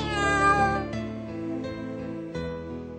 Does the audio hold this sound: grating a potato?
no